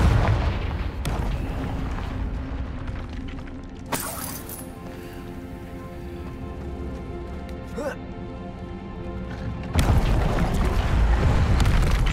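A fiery Confringo blast spell in Hogwarts Legacy sets off heavy booms and rumbling, with a sharp burst partway through and a loud surge at the end. Spoken voices run over the blasts.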